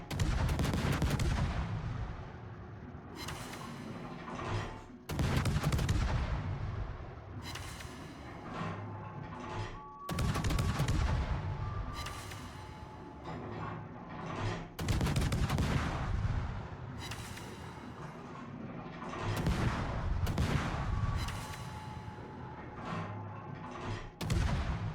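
Cruiser guns firing shells in World of Warships from a tier VII American light cruiser, heavy booming salvos repeating roughly every five seconds, loud and continuous with dense rumbling between volleys.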